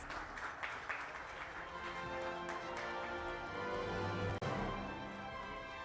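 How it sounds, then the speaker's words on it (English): A round of applause for the Odisha state government at a televised tourism awards ceremony, dense and steady clapping mixed with background music, fairly faint overall and with no speech. "Can we have a round of applause, please, for the Odisha government?"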